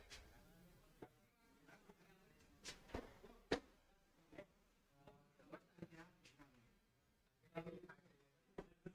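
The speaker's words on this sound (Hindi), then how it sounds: "अरे मच्छर साहब" A mosquito buzzing close by in a classroom, heard in irregular whining bursts that flare and fade over several seconds.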